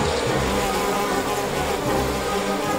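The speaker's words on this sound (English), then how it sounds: "Where are all these bees coming from?" Cartoon swarm of bees from a bee farm buzzing loudly and continuously, a dense, close drone with no break, heard alone without speech.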